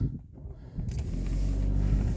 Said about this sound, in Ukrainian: Так, завели автомобіль.